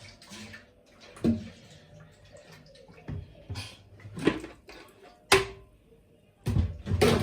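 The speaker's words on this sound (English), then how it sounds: "Okay, so I'm going to rinse this processor. I'm just going to rinse it and get everything out." Water splashes and sloshes as a food processor is rinsed out while an owo stew is being cooked, coming in several short, loud bursts separated by quieter running-water moments.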